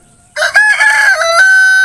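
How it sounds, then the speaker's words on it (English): A rooster crows once near and loud, a single long drawn-out call that starts after a short quiet moment and carries to the end, with no talking. "yes, sir, Mr. Rooster."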